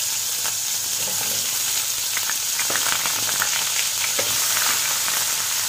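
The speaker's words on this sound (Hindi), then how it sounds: "दो तीन मिनट हम आलू को थोड़ा कलर चेंज होने तक फ्राई कर लेंगे।" Potatoes fry in a little hot oil, a dense, steady sizzle close up with occasional scraping stirs and crackles throughout.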